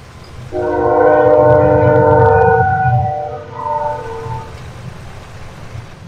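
A train passes in a farming video game, a loud sustained horn blast with stacked tones rising over a low rumble for a couple of seconds, then fading into quieter rolling rail noise.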